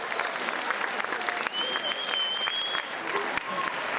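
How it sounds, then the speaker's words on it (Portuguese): Audience at a music festival comedy performance clapping steadily for a few seconds, a sustained wash of many hands with faint crowd murmur and whistle-like tones. "Podem bater palmas só para fazer um bocadinho de barulho."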